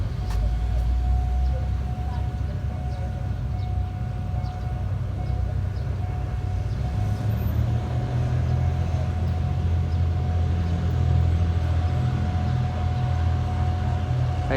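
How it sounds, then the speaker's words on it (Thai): A deep diesel locomotive engine, GEK 4007, drones steadily, its low rumble swelling and strengthening toward the end as it revs up. "เสียงเร่งเครื่องเป็นเอกลักษณ์นะครับ"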